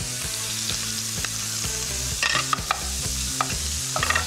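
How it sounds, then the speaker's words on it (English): Bacon crisps in a pan with a steady sizzle, while a rhythmic pulsing hum repeats underneath and sharp scraping and clattering hits cluster in the second half; no voices. "Now that bacon's getting really nice and crispy"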